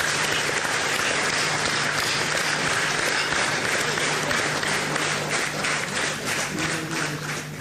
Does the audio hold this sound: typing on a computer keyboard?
no